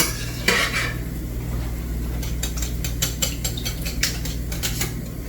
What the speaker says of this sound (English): I'm gonna use a whisk to whisk all of our wet ingredients